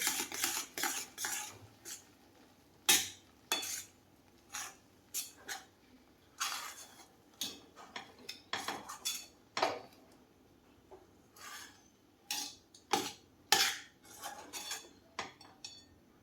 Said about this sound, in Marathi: आता हे हलवून घ्या छानपैकी.